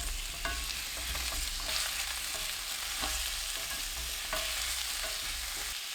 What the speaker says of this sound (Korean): 달군 팬에 애호박, 식용유 2큰술 넣고 중불로 2분 볶아주세요.